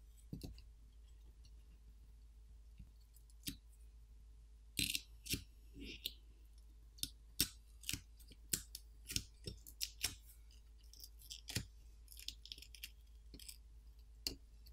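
Graphite film being peeled off the back of a Motorola Moto G Power during a teardown, heard as a faint, quiet scene broken by scattered sharp clicks and short crackling snaps, with some denser bursts in the second half.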